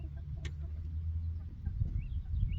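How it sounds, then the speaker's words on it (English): Chickens on a small farm cluck faintly and intermittently over a steady low rumble of outdoor noise. "I'm coming, chickens."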